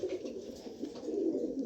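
Male red checker pigeons coo in a low, continuous murmur. The cooing sounds close and steady and fills the clip without any other sound or talk.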